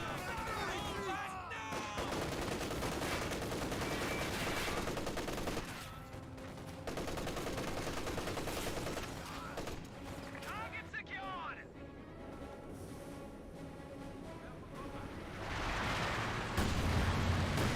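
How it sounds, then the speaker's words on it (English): Incendiary artillery barrage in Company of Heroes 2 lands amid continuous battle noise, with dense gunfire and crackling bursts running throughout and a commentator talking over the action. "Another Incendiary Barrage onto the MG"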